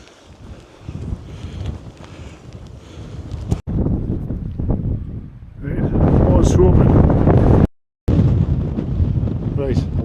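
Wind gusts buffet the microphone outdoors on an open fell while someone talks over the rumbling, steady roar throughout.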